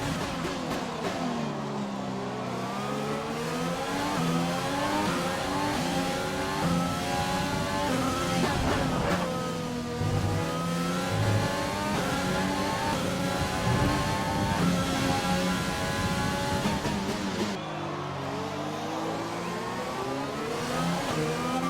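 A Formula 1 car in the F1 2020 racing game pulls out of the pits at the Canadian circuit, its engine note rising and falling in a steady high whine through repeated gear changes, loud and continuous with no talk.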